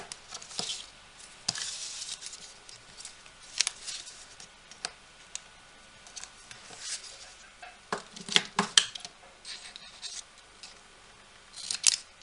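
Scissors trim thin cardstock for a small handmade gift box. The quiet, crisp snips and clicks come in irregular bursts with pauses between cuts, close by and without speech.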